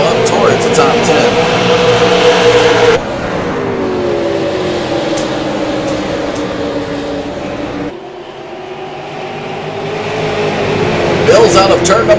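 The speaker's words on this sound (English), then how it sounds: "You can see the battle between Joe Schaefer Jr. taking place and Derek Holhausen here in turn number 3, side-by-side action" Super Late Model stock cars race at New Hampshire Motor Speedway, engines droning and shifting pitch as cars pass side by side through the turns, with a loud crowd-and-track wash and abrupt changes as the field sweeps by.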